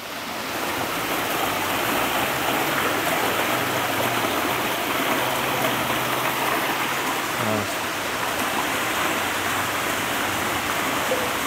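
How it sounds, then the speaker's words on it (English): Waterfall inside a greenhouse gives a constant, broad rushing roar that fills the scene at steady loudness throughout, with a faint brief voice partway through. "And there's a waterfall"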